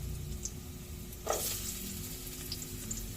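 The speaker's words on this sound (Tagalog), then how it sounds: "So ilagay natin dito yung sibuyas, ilagay natin yung bawang" Onion and garlic sauté in a pan, giving a soft, steady sizzle with a brief louder burst as the pieces hit the oil, then a quiet continuous frying hiss.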